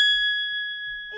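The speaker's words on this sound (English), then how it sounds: "you'll hear a sound like this if you get it right" Correct-answer chime from a quiz game, a single bright ringing ding that sustains and slowly fades.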